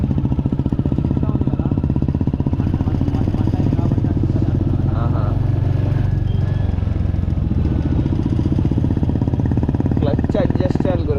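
Motorcycle engine runs steadily while being ridden, its loud continuous drone with mechanical clatter filling the recording, and voices talk over it throughout.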